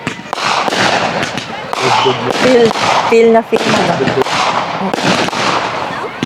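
New Year fireworks and firecrackers bursting close by in the Philippines, a continuous barrage of loud cracks and pops with rapid crackle, while someone speaks briefly underneath the blasts.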